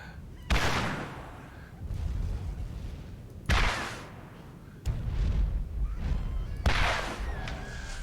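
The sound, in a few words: missile launcher firing and exploding in video game Borderlands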